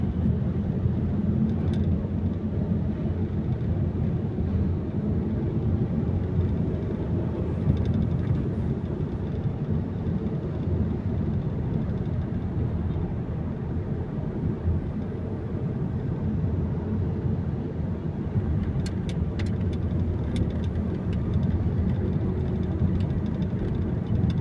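Steady road traffic of cars near C5 road by UP Town, a continuous low rumble of engines and tires that stays fairly loud and even throughout with no talking.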